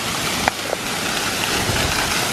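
Rushing waterfalls in Shawnee National Forest, a constant near roar of falling water with a couple of faint knocks early on.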